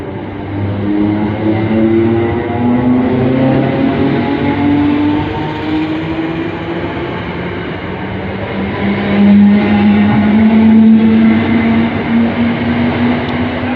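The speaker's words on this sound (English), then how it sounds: "this train's now ready to depart for Stratford" A train pulls away from Northumberland Park station toward Stratford with a steady mechanical hum and rising whine, its tones sliding slowly upward, close and loud, with no one speaking.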